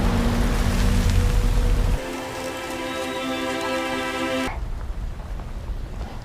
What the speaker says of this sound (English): the heavy rain around Ruja's house finally begins to ease